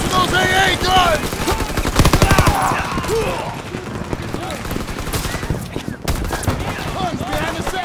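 Machine guns lay down suppressive fire on the Rhine in a World War II battle game, with rapid, loud bursts of automatic gunfire in dense clusters. Shouted voices and battlefield noise run underneath, and the firing thins out toward the end.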